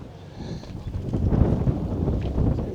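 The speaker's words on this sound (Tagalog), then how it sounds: "Tapos lumakas yung hangin." Strong wind on the Izu Peninsula, Japan, buffets the microphone in loud, uneven gusts, a rough low roar rising and falling without letup.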